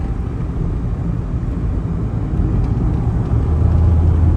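Steady low engine rumble of an airplane landing on a flight from Ajman to Dubai, a continuous dense roar heard from inside that swells slightly louder toward the end, with no talk.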